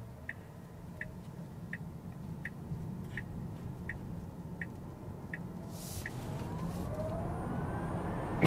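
Inside a Tesla Model Y Performance on the German Autobahn, a turn signal ticks steadily over road noise, then the electric drive's whine rises in pitch as the car accelerates hard.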